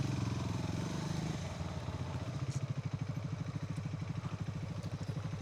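A motorcycle engine idles steadily with a low, even chugging pulse on a narrow off-road mountain trail, loud and close, with no talk over it.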